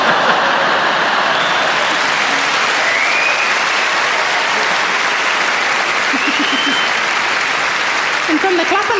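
Sustained audience applause fills a comedy show for about nine seconds, dense and steady at fairly close range, with faint crowd voices and a hint of talk toward the end.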